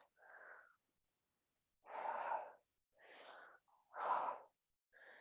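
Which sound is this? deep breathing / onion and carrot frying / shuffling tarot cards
deep breathing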